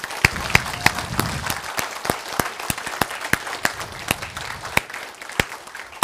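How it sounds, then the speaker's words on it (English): Audience applause at a diplomatic forum on North Sumatra tourism, dense and sustained with a few sharp, close claps standing out in a steady rhythm over the crowd. "please give me a very big applause"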